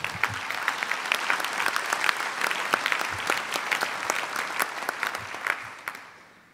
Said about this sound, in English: So I think we should all give ourselves a big applause just for being that.